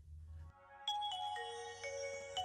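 A mobile phone plays a short melodic ringtone of bright electronic notes stepping up and down. It starts after a brief quiet moment, sounds fairly clear and close, and has no talking over it.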